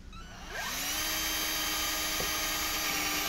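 A power drill spins up with a rising whine and then runs at a steady, loud, close pitch while boring holes in a Dodge Charger SRT Hellcat for a wickerbill spoiler install.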